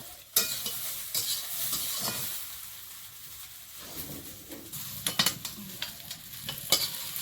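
Vegetables, okra among them, fry in oil with a crackling sizzle and scraping stir strokes, quiet at first and then sharper bursts of spatter and clatter toward the end.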